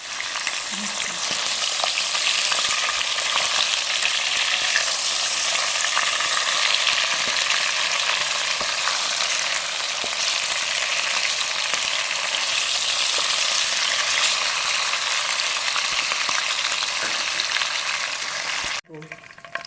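Steady, loud sizzling of chicken frying in hot oil for chicken korma, continuous and close, with faint stirring sounds and no talking until a brief dip at the end.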